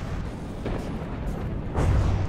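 Torpedoes strike a submarine in the naval combat game From the Depths, landing as a couple of muffled, rumbling booms over a continuous low undersea drone, the heaviest impact near the end.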